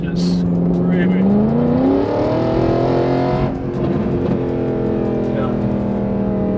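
A Mercedes SLS AMG with an upgraded exhaust revs hard, its engine note climbing steeply to a loud scream, then holding a high pitch and easing slightly. Voices talk beneath the engine.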